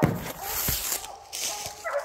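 Dog during a coon hunt giving short yips, whimpers and barks in brief bursts, fairly close outdoors with some faint background noise.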